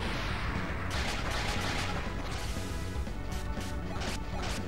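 Cluster Bomb explosions in a video game rip out as a dense, continuous barrage of crashing, crackling blasts, loud and unbroken throughout.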